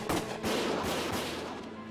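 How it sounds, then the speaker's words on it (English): Gunfire crackles in the war game Valkyria Chronicles, a dense, loud barrage of overlapping shots and booms that keeps up for a couple of seconds. "Gunfire!"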